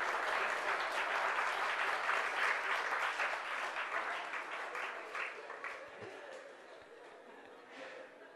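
A large audience at a morning satsang on the Patanjali Yoga Sutras applauds steadily, a dense wash of clapping that gradually thins and fades, with some light laughter mixed in.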